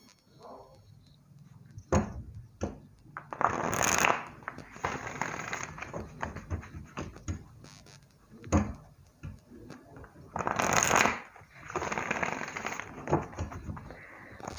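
A deck of tarot cards is shuffled close up in several rustling, riffling bursts separated by quieter pauses and soft taps of cards being handled.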